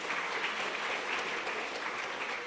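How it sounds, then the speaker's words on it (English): An audience applauds a beauty pageant contestant at a literary night, continuous even clapping from a sizable crowd, loud and unbroken throughout. "A round of applause for her."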